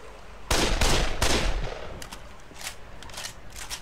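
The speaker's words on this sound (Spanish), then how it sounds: "No sabía ni para dónde ni de dónde le venían los tiros." Bursts of gunfire in the zombie video game Dead Island, a loud volley of sharp shots up front followed by fainter, scattered pops and echoing rounds trailing off.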